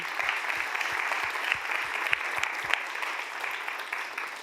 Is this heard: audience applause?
yes